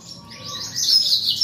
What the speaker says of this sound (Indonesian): Tuh, suara perenjak itu.